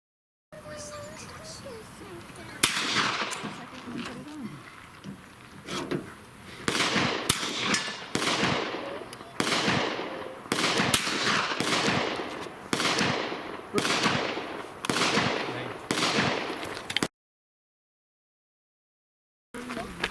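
About a dozen loud, sharp rifle shots fired at a 100-yard target, spaced a second or so apart, each cracking out with a short echoing tail over outdoor background noise.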